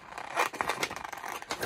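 Scissors snipping through paper in quick, uneven cuts, close and fairly clear, with no voices.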